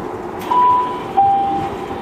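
A Tokyu Oimachi Line train pulling into Jiyugaoka station in Tokyo, a steady rumble with two long thin brake squeals, heard close and alone.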